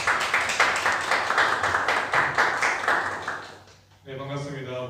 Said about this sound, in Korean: 오늘 강사님을 모시겠습니다. 인천 서구병 국회의원 모경종 위원장님을 큰 박수로 맞이하겠습니다.